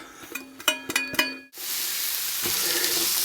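Onions and spring onions in rice bran oil, with a few clinks of utensils and then a loud, steady sizzle and crackle of frying close by.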